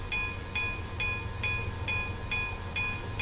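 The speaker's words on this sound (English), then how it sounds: "normally only 2 trains are supposed to pass through here." Railway carriages rolling past in a visual novel game, with a steady run of evenly spaced metallic clicks roughly twice a second over a low rumble at moderate volume, with no talking.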